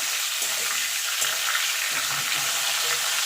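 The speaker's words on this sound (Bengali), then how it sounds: "দিয়ে সজনার ডাটাটা একটু ভাজা ভাজা করে নেব" Drumstick (moringa) stems frying in a pan, a loud, continuous bright sizzle with steady crackle throughout and no talking.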